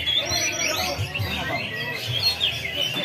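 A songbird chirps repeatedly during an outdoor bird singing competition, steady bright tweets close by over a crowd murmur and voices talking nearby.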